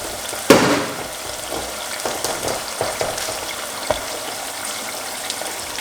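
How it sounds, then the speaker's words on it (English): Garlic and white onion fry in a pan with a loud crackling sizzle, a sharp burst at the start, then scattered pops and scraping stirs over a steady hiss. "So right here we have garlic and white onion. Fry up that inside of it."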